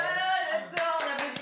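Studio audience applause, a few scattered bursts of hand claps rising over a sustained tonal music bed, fairly close and moderate in level.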